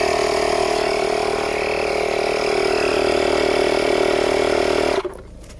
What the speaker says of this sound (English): So now I'm just putting pressure in my wheels, because 3 of the wheels were flat.